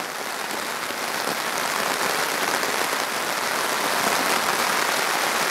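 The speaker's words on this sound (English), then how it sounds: "Man, it's pouring." Heavy rain pouring onto a tarp at a canoe trip campsite, a dense, unbroken hiss of drops drumming on the surface, loud and close throughout with no voices.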